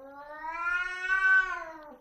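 A small cat caterwauls at a Maine Coon indoors: one drawn-out, rising and falling wail that lasts about two seconds, close and fairly loud, with no voices.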